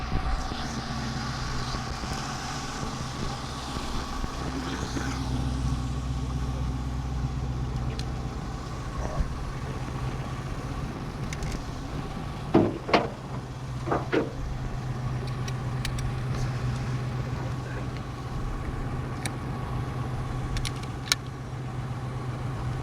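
A 1933 Ford Coupe engine idling, a steady low rumble that holds throughout at moderate loudness, with a few brief clicks and clunks near the middle and no speech over it.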